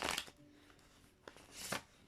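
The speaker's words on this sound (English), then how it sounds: "let's just get one more shuffle here" Tarot cards being shuffled by hand, giving soft papery riffles and swishes in short bursts, close and quiet, with no talking.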